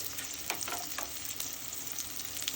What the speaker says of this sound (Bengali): দিয়ে দেব ফালি করে রাখা কাঁচামরিচ